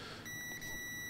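A ZOYI ZT-701 digital oscilloscope multimeter emits a continuous electronic beep during a continuity test, starting shortly after the clip begins and holding steady and clear to the end, with no talking.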